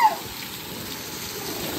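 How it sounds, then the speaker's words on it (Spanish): Heavy rain pours down on a flooding garden, a dense, steady hiss of water with a brief sharp sound at the very start, continuous and fairly loud. "es que está lloviendo demasiado"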